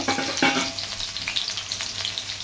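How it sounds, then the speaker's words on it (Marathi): Crushed garlic and chopped spring onion frying in a pan give a steady, close sizzle, with a brief clatter of stirring near the start. "आपण लसूण ठेचून टाकत आहोत, त्याबरोबरच कांदाही टाकून घेत आहोत"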